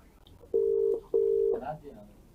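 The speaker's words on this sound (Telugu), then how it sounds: "ఇప్పుడు నేను ఫోన్ చేసేది అలానే ఉంది. వాళ్ళు ఎత్తినట్లేదు." Two identical steady electronic tones from an outgoing phone call sound back to back, each lasting about half a second. A short pause separates them, and a faint voice murmurs in the background.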